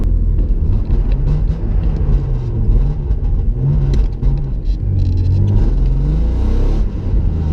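A BMW E36 engine runs rough with a misfire, a loud continuous car engine rumble with uneven revving and a stumbling beat, heard close up with no talking.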